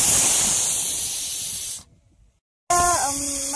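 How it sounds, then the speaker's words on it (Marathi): Loud, steady hiss of steam released from a pressure cooker of mutton cooking over a wood-fired chulha outdoors on a farm, cutting off abruptly into a brief silence before outdoor ambience resumes. "मग आता त्याच्यात हवा काढतो कुकर मधली"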